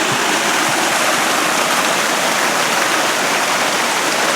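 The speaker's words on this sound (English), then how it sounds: "Got a nice little waterfall here to go over." A small waterfall on a hiking trail to Owyhigh Lakes rushing steadily nearby, a dense continuous hiss of falling water with no voices.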